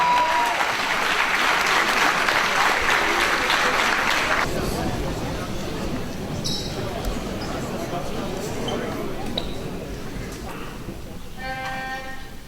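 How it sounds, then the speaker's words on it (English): An audience at a charity sports event applauds to welcome a young singer, loud dense clapping for about four seconds before dropping into crowd murmur and scattered claps, with voices talking in the hall. "Clap it up, y'all."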